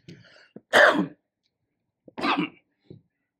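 Two harsh coughs, a second or so apart, each preceded by a short breath, close to the listener in an otherwise quiet room.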